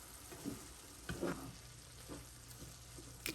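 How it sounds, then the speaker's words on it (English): Cooked turkey mixture sizzles faintly in a pan while being stirred, soft scraping strokes every half second or so over a quiet frying hiss. "Give it a good stir, mix it around real good."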